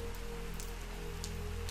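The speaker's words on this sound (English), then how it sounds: "as the rain falls to the wet ground, splashes on the wet porch," Steady rain patters and splashes on a wet porch and ground, a soft continuous hiss with faint drops over a low hum.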